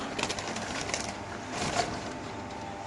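Racing pigeons coo softly inside a loft cage at a pigeon farm, low rolling calls rising briefly over a steady background rustle and hum.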